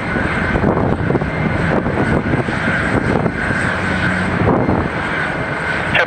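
A Doraemon-liveried jet airliner taking off from a runway at Haneda Airport, its engines producing a loud, steady roar that holds for the whole stretch with no voices.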